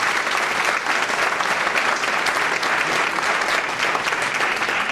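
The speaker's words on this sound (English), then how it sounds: "So I want to give them that round of applause." An audience at a police department youth academy graduation ceremony gives a loud, sustained round of applause, dense steady clapping filling the room throughout.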